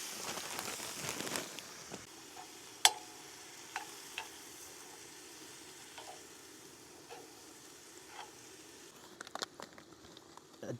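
Broccoli stir-fry blend sizzles quietly in a pan inside a van in snowy mountain wilderness. A soft, steady hiss carries throughout, with occasional clicks and scrapes of stirring, and the whole sound is faint.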